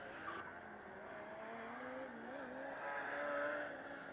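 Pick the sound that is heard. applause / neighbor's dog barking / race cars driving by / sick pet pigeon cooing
race cars driving by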